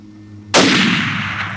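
A single loud hunting rifle shot fired at a buck 430 yards away bursts out of a quiet outdoor background, followed by a long, booming echo that slowly fades.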